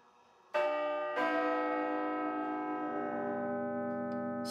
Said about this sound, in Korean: 15분마다 울리는 작은 종소리를 시작으로 조금 기다려 정각이 되자 더욱 힘차게 요동을 친다.